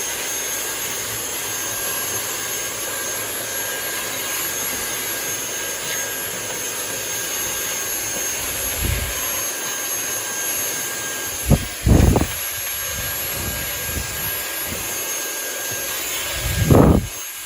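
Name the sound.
vacuum cleaner sucking loose dirt out of a sink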